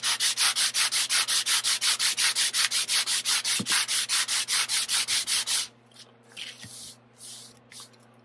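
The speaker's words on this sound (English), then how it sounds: "I'm going to do this and sand it a little different" Sandpaper rubbed by hand over a flat 3D-printed gauntlet piece coated with IncredaFILL filler, loud rapid back-and-forth rasping strokes in steady rhythm, then a few slower, lighter scrapes, with a fan humming underneath.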